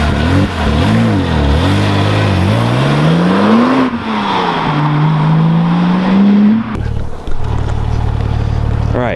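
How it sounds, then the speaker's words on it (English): A Porsche 911 997 Turbo engine revs loudly and close, its pitch climbing and falling through several sweeps before a sharper change near the end. "All right, this is a 997 turbo."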